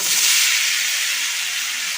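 Koorkka (Chinese potato) dropped into a hot pan of toasted chili powder, giving a steady, fairly loud broadband sizzle that holds evenly for the full two seconds with no voices over it.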